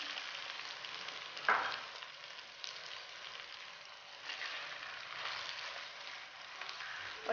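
Keema frying with green chillies and tomatoes, a soft, steady hissing sizzle like light rain, fairly faint and distant, with one brief clatter near the start and no talk.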